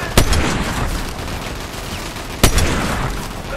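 Fortnite sniper rifle gunfire: two loud, sharp shots about two seconds apart, each followed by a rumbling tail, over dense in-game background noise.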